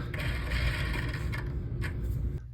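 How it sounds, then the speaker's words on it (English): A tap and die cutting new threads on a bolt, with a steady grinding, creaking metal-on-metal rasp close by and a few brief scrapes. "I've managed to cut some new threads down by, at least a 1/4 inch."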